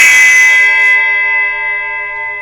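A thick, heavy bell cymbal is struck once and rings on with a pure, steady tone near its fundamental, a brief bright attack fading into a long sustained decay.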